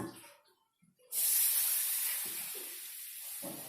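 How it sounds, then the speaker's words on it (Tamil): Milk poured into a hot butter and flour roux for béchamel sauce, a sudden loud hiss and sizzle that bursts up and holds steady for a few seconds, preceded by faint kitchen clatter. "மில்க் ஆட் பண்ணிக்கிறோம்."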